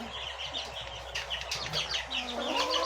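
Several Aseel chickens cluck and murmur together nearby, overlapping soft calls with a few sharper squawks against a steady background hum.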